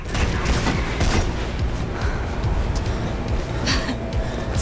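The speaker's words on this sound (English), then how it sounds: "I can hear gunshots" Bursts of gunfire crackle over a dense, rumbling background of battle noise, with sharp volleys standing out now and then, in the video game Mirror's Edge.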